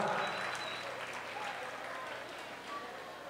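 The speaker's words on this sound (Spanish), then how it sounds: "quiero el más grande y fuerte los aplausos para los trabajadores del Limbus" A crowd in a resto bar claps and cheers for the staff, a dense, steady burst of applause from many hands with a voice partly audible under it.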